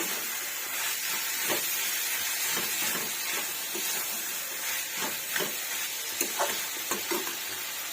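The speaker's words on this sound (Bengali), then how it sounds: "এবার একটু মশলার সঙ্গে একটুখানি নেড়ে ছেড়ে নেব সুন্দরভাবে।" Boiled chickpeas stirred with spices in a hot pan: a steady sizzling hiss broken by repeated scraping strokes of the spoon, close and moderately loud, with no talking.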